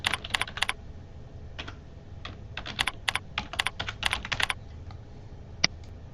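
Keystrokes on a computer keyboard as a username and password are entered, coming in quick bursts of close, crisp clicks with short pauses between groups and a final isolated tap.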